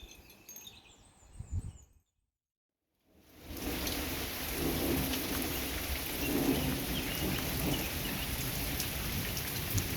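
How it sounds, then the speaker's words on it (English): Steady, dense rain falls during a storm on the water, hissing evenly and fairly loud after a brief silence, preceded by a few faint sounds and a low rumble early on. "I've got rain. It's been kind of continuous, but it's not been excessively heavy or excessively hard."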